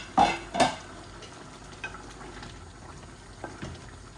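A spatula scrapes through a chicken and taro-stem bhuna in a wok. Two loud strokes open the clip, followed by quieter, intermittent stirring over a soft cooking hiss.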